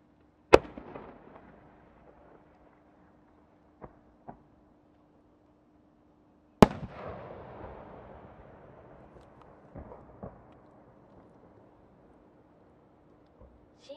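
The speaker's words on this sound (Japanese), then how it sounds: "新作花火" Large aerial fireworks shells from Wabiya's new winter collection at Omagari, Akita, with two sharp booming bursts that trail off into long crackling tails, followed by scattered distant pops.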